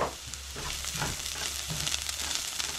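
Onions and garlic sizzle in bacon grease in a pan, a soft, steady crackle and hiss with small bursts as the food is stirred, fairly quiet and with no one speaking.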